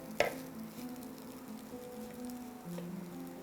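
Noodles with chili leaves are stirred in a hot pan, a soft steady sizzle and scraping with a sharp knock near the start and faint faint tones underneath, close and quiet with no speech.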